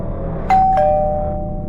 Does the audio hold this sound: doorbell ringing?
yes